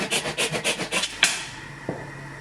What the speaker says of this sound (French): je vais les hacher de nouveau dans mon petit tornado